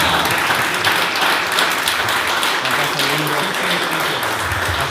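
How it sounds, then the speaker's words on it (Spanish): An audience at an anti-corruption congress applauds a prize winner, dense hall clapping sustained evenly throughout with faint voices underneath. "Un aplauso."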